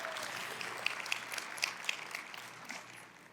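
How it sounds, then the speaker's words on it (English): Faint audience applause for special guests at a community awards presentation, soft scattered clapping that thins out and fades over a few seconds. "One more round of applause for our special guests"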